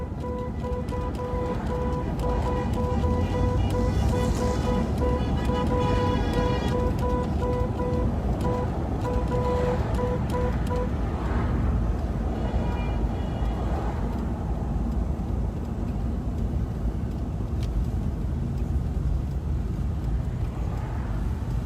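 A car drives steadily in a roadside rolling rally, with a constant engine drone and road noise, while a repeated electronic beeping tone chimes through the first half and a few faint horn-like sounds come and go.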